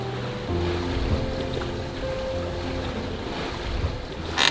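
Sailing boat drifting under spinnaker at sea in calm conditions: a steady low hum of wind and water washing along the hull, with a gust of wind noise at the end, no talking.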